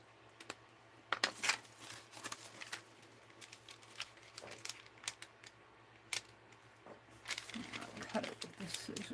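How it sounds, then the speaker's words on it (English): Irregular sharp scissor snips cutting paper and crinkly paper rustling, close by, in short bursts with pauses between. "I'll cut it with the scissors."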